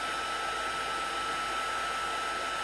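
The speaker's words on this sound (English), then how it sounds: "it's always better to have your heat tool straight up above it versus at an angle" Embossing heat tool blowing hot air over cardstock for a shimmer white flower card, a steady broadband whoosh with no change in loudness, heard up close and alone.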